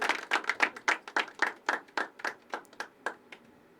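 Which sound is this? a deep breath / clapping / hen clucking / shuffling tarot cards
clapping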